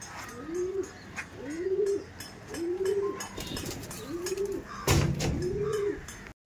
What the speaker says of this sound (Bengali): পায়রাগুলো ওড়ানো হচ্ছে